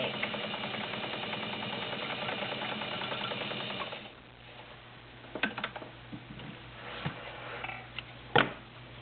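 A vintage Kenmore model 21 sewing machine stitches through five layers of denim, running as a steady, close mechanical whir for about four seconds, then stopping and leaving scattered clicks and knocks from the machine.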